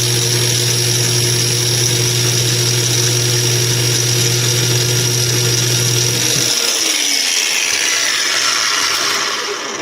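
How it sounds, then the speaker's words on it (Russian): A Heimerdinger LB184 cordless angle grinder running at second speed whines steadily at high pitch, loud and close, its tone shifting slightly near the end as the motor changes load. "Так, у нас болгарка на второй скорости."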